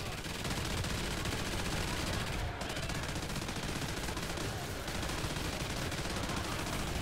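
Turrets firing in Call of Duty: Ghosts Extinction mode, a dense and continuous rapid-fire automatic burst that stays loud with only a brief dip midway.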